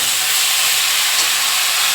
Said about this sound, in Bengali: এখানে এই যে মশলা দিয়ে সব কষাচ্ছি